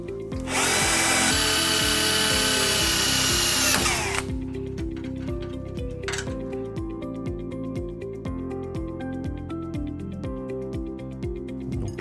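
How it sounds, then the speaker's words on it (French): A power drill boring through a metal bar on the reinforcement of an Ekinox shower panel whines at high speed for about four seconds, close and loud. Quieter clicks and brief tool sounds follow afterward. "maintenant on va percer la barre sur le renfort"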